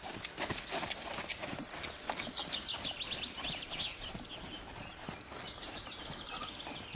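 A horse working on a lunge line, its hooves beating a steady, continuous clip-clop rhythm at close range throughout, with faint birdsong and outdoor ambience behind.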